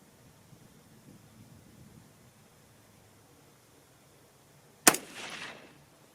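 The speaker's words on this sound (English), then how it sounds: "First cold bore shot." A single .243 Winchester rifle shot fired cold bore with factory or handloaded ammunition at a target range, one sharp report heard at a distance over steady wind-like hiss, followed by a brief fading tail.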